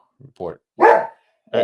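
A dog gives a few short, close barks in quick succession, loud and separated by brief silences, with a voice speaking in between.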